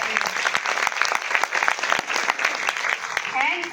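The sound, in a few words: audience applause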